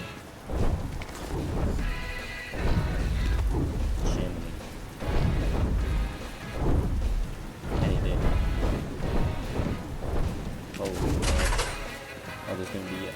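Video game rain pours steadily outside a prison while rolls of thunder rumble repeatedly, loud and close, with a sharp crack near the end.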